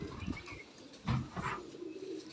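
Jalandhar galwa pigeon cooing softly nearby in a few low, rounded bursts, with faint background noise between calls.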